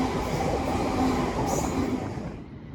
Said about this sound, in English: passing through now, it's going to be a London North Western Railway service running from Birmingham New Street to Liverpool Line Street